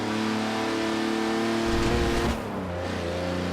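A car engine in Forza Horizon 4 hums with a steady tonal drone, then surges in a brief rev that climbs and cuts off, settling back to a lower, smoother engine tone.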